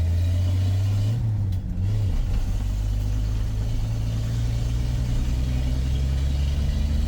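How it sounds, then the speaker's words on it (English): A 1984 Dodge RAM D100 truck doing a burnout, its engine holding a loud, steady low rumble with a brief pitch wobble early on as the revs shift, no talking over it. "Oh, we got a burnout."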